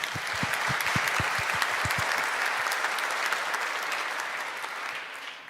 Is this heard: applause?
yes